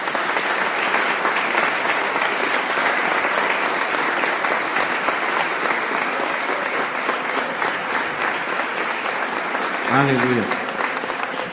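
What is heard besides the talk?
congregation applauding in church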